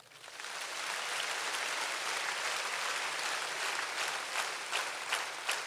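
A crowd at a university political gathering applauds steadily, a dense wash of clapping that builds quickly and holds at an even level throughout, with a few sharper individual claps standing out near the end.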